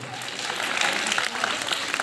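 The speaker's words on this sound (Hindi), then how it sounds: "जोरदार तालियों के साथ बच्चों।" Dense, continuous applause from a gathering at a lamp-lighting ceremony for a late father's birth anniversary, a steady wash of many hands clapping at moderate volume.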